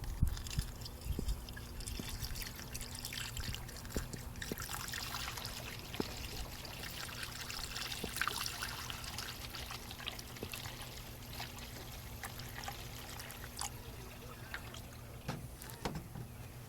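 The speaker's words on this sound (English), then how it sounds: "We'll pour some water in and see." Distilled water trickles and pours into the cooling system of a 6.2 diesel Suburban, a faint steady liquid wash with scattered small clicks and taps over a low hum, no voices.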